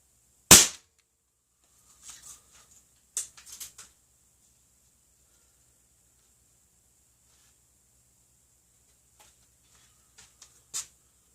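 A CO2 air gun fires a PDG pellet with one sharp, loud crack at the start, followed by a few faint clicks and taps and a small snap near the end in an otherwise quiet setting.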